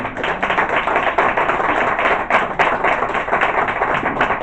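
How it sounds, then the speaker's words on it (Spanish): Congregation clapping together at a church anniversary service, a loud, dense and sustained burst of applause filling the room. "Dale un aplauso al Señor."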